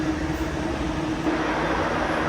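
A DC streetcar tram riding on its rails, with a steady, loud, continuous rolling rumble and hum heard from inside the car.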